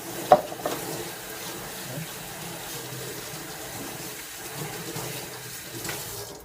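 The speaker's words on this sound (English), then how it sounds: "So I'm just going to rinse that out real good." Tap water runs into a sink while a plastic container with leftover soil residue is rinsed out, giving a soft, steady splashing wash with a small knock near the start.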